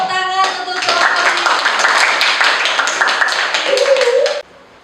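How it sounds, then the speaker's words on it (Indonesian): A classroom of students applauds a presenting group, a dense burst of close, loud clapping lasting several seconds with voices mixed in, then stopping abruptly. "Tepuk tangan untuk kelompok"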